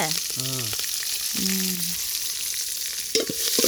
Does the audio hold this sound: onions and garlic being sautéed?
yes